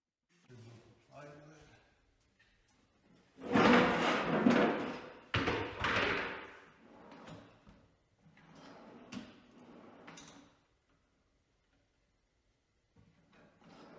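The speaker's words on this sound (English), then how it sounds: "Now it's time to store the first drawer." A wooden drawer slides into a plywood router table cabinet with scraping and bumping bursts and a couple of firm thuds, separated by quieter handling noises and gaps of near silence.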